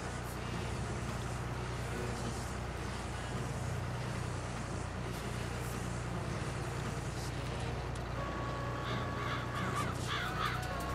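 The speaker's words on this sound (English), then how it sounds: "Birds, get out of here." Crows caw repeatedly in Farming Simulator 22, harsh calls over a steady low drone of farm vehicle engine noise, louder in a cluster toward the end.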